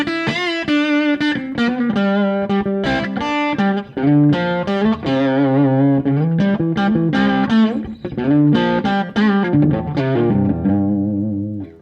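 Distorted electric guitar through an amplifier, recorded with a mic behind the amp combined with a room mic, chords and single notes ringing with a roomy, full tone, played alone.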